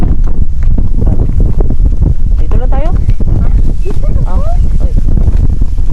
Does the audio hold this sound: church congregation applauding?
no